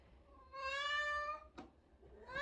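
A house cat gives one drawn-out, rising-and-falling meow at close range, then a short sharp chirp, with a second meow starting at the end, in a quiet indoor room.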